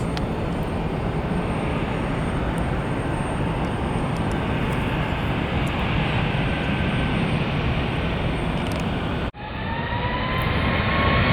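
A Southwest Boeing 737 MAX jet departs outbound, its broad, steady engine roar echoing off nearby buildings, loud and continuous throughout with a brief dip near the end.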